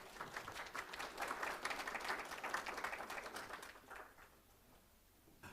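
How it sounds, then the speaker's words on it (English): Applause at a city council meeting for a newly appointed city manager: faint, steady clapping from a modest room that tapers off and fades out near the end. "Let's give her a round of applause."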